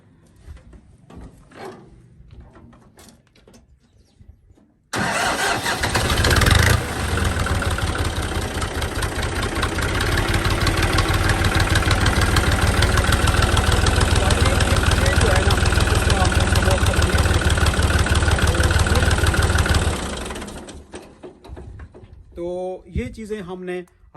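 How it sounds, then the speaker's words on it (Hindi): New Holland NH850 tractor engine cranks and catches, then idles with a loud, steady diesel rumble for about fifteen seconds before cutting off; someone speaks before and after. "अभी मैं गाड़ी स्टार्ट करता हूँ, आपको दिखाता हूँ"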